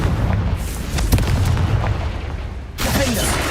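A Confringo fire spell bursts in Hogwarts Legacy, a loud booming blast with crackling fire over game music, fading before a second burst of noise near the end; a voice shouts the spell name over it.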